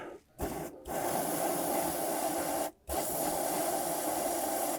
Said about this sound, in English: Spray a little bit more penetrant.